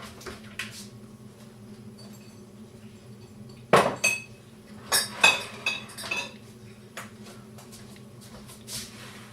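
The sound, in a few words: large glass jar being handled, clinking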